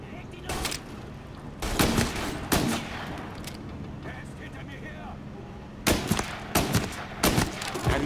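Gunfire in the Mafia remake video game cracks out in short separated bursts of sharp shots, several clusters over a few seconds against a low game background, with a voice speaking in places.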